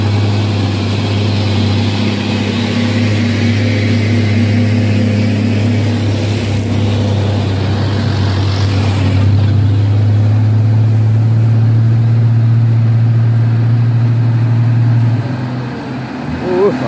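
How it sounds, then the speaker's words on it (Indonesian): A Mitsubishi Fuso truck's diesel engine runs with a steady, loud low drone that deepens and strengthens midway, continuous for many seconds before easing off at the end. "Ada mobil Puso kebul."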